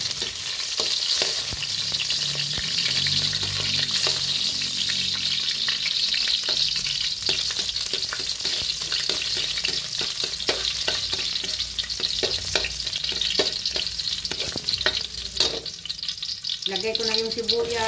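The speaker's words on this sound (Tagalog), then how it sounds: "Lagay ako ng mantika. Igisa ko na yung bawang." Garlic sautés in cooking oil for Filipino string bean adobo, a steady loud sizzle running the whole time with scattered scrapes and clinks of stirring.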